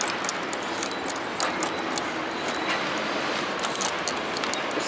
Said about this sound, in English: Let me show you the train running down there.